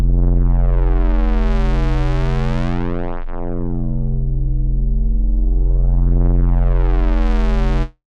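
A buzzy square-wave synthesizer bass tone in VCV Rack holds steady while its filter sweeps down to a dull hum and back up to bright, then cuts off.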